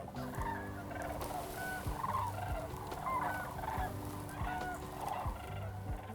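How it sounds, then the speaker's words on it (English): Sandhill cranes calling with rolling, trumpeting bugles, several calls overlapping in loose repeated bursts at moderate distance, alone without talk. "There's no other bird that sounds like the trumpeting or bugling of the Sandhill Crane."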